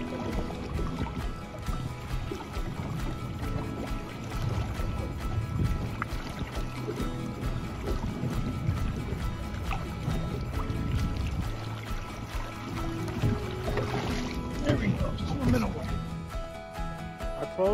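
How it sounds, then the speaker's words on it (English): A fishing boat moves forward across water in North Palm, a steady rushing hull and wash noise with low motor rumble, continuous and fairly even, with talk over it. "Definitely gotta go forward with the boat."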